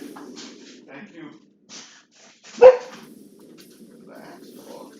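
One loud, sharp bark from a dog nearby cuts through otherwise quiet moments, with murmured conversation and small room noises before and after during a tabletop gaming session.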